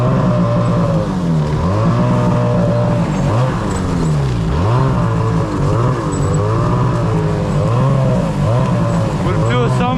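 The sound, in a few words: Ski-Doo Summit snowmobile with Fox Float 3 shocks driving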